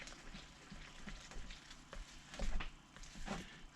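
Bread dough ingredients are stirred in a bowl outdoors in the wilderness, quiet rhythmic scraping and squelching strokes over low background rumble, faint and close.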